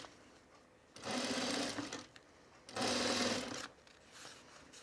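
A sewing machine runs a bag seam at a narrow seam allowance in two loud, close runs of about a second each, separated by a quiet gap.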